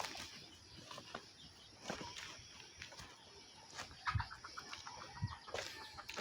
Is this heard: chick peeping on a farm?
yes